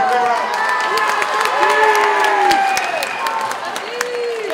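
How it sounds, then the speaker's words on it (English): A school talent show crowd claps and cheers for a bucket drumming act, with shouts and excited voices rising over dense applause throughout. "Big round of applause here, big round."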